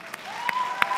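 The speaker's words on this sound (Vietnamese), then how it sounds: "Một tràng pháo tay dành cho Thành Tâm." Applause from a studio audience at a Vietnamese television dating show: a brief, fairly faint patter of clapping that runs steadily through one second with no talk.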